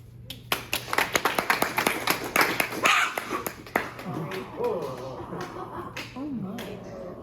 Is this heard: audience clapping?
yes